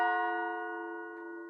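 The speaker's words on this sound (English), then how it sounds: "He spoke before the hour bell sounded, which it now did with a deep, dull, hollow, melancholy" A single deep, dull, hollow stroke of an hour bell tolls, its rich sustained ring slowly fading away alone.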